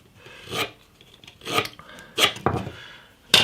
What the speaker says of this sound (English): So I'm going to cut it off at the headstock end.